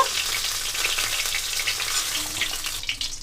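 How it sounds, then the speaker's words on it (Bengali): Pakal fish sizzling in a pan of oil, a continuous dense crackling hiss heard up close, without any voices. "এইটাই লাস্টবার একটু উল্টে পাল্টে মাছগুলোকে হালকা করে ভেজে নেব"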